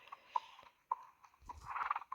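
Hooves of a young horse walking, a few faint irregular clip-clops on hard ground, with soft scuffing and a rustle near the end.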